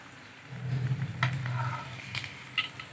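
Chicken mince for chapli kabab frying in a pan: a close, steady sizzle with a few scrapes and clinks of stirring, over a low hum.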